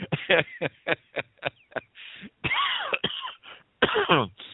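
A string of sharp, close coughs in quick bursts, followed by longer raspy coughing and throat clearing, with short pauses between fits.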